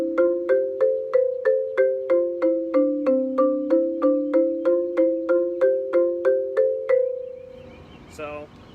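A marimba plays a left-hand staircase pattern, a run of about twenty evenly spaced mallet notes stepping down and back up in pitch, bright and close, ending with a brief faint rattle.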